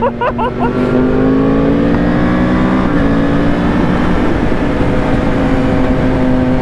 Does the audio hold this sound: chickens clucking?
no